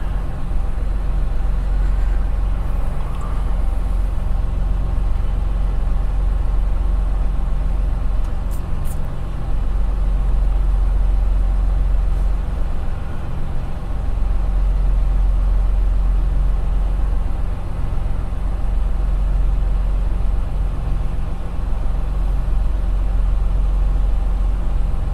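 A truck engine idles steadily nearby, a low continuous rumble with a constant drone that holds for the whole stretch, with no talk over it.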